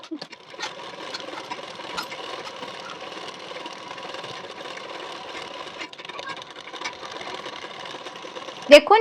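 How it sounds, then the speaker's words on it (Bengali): A sewing machine runs a steady edge stitch along a blouse neck strip, a fairly quiet, continuous mechanical whir with small ticks, ending in a brief louder clatter as it stops. "পট্টির কানা বরাবর করে একটি চাপ সেলাই দিয়ে নেবেন"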